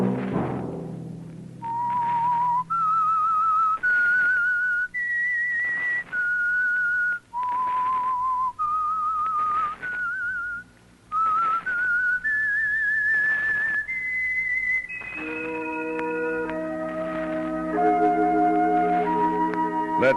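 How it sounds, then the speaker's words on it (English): A lone whistler carries the theme melody of the 1949 radio drama The Whistler: clear, sustained notes in short phrases separated by brief gaps, close and loud, then joined by an orchestral chord swelling beneath the final notes. "Let that whistle be your signal"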